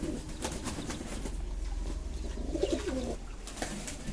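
Bou-ghomta pigeons bathe in water, soft splashing and wing flutters under a low, close cooing that swells in the middle, with a faint steady hum behind.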